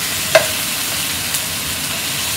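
Salt and pepper seasoned vegetables sizzle and get tossed in a hot pan, with a steady frying hiss broken by a couple of faint stirring clinks.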